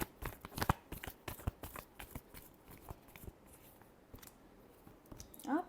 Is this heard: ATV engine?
no